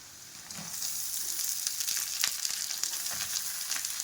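Drumstick leaves and flowers frying in a pan, a continuous close hiss and sizzle with faint crackles and occasional stirring scrapes, steady in loudness throughout with no voices.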